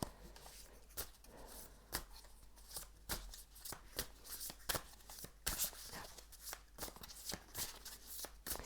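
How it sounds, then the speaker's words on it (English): Tarot cards are shuffled by hand in quick, soft riffles and taps, a steady run of crisp bursts about once a second, close and quiet with no voices. "I'm going to shuffle and see what the cards have to say"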